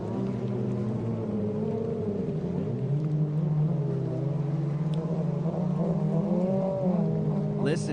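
Powerful runabout racing boat engines roar steadily at a Paris, Texas boat race, a loud sustained rumble with shifting pitch, under faint crowd and announcer voices.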